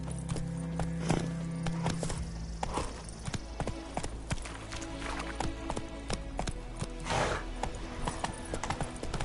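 A horse gallops in the video game The Witcher 3, its hooves clip-clopping steadily and rapidly over ambient game sound and music, with a brief whinny.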